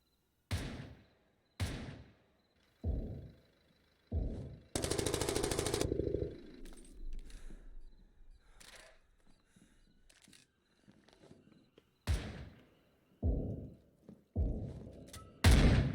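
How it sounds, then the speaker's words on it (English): Gunfire trades back and forth during a competitive Zero Hour tactical shooter match: sharp, separated shots and bursts with gaps between them, one long sustained blast of fire, and a few quieter muffled rattles. "blasting through as they're just trading fire back and forth"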